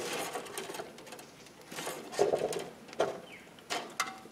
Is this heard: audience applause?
no